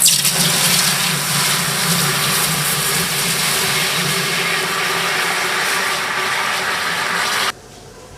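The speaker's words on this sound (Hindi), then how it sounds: "इसमें डालेंगे पानी।" Water pours into a cooking pot for goat biryani in a loud, continuous rushing gush that holds steady for several seconds, then cuts off abruptly.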